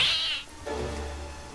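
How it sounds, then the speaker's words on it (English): A cat lets out a sharp, loud meow in a jump-scare moment from the horror film House III, followed by a lower drawn-out yowl, all within a second and a half. "the generic old cat jumps out at you gag."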